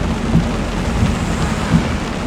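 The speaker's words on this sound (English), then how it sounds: "It's pouring." Heavy rain pours down steadily in Gatlinburg in the Smoky Mountains, a dense, constant broadband hiss with a low rumbling undertone throughout, close and loud with no voices.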